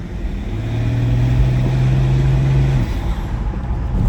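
A 2001 BMW E46 330d diesel car driving at night, its engine holding a steady low drone with a sustained tone, loud and continuous throughout with road noise underneath.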